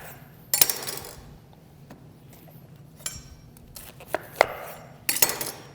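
A knife chops through a head of cauliflower on a cutting board, giving several sharp, close thunks spread unevenly over a quiet background.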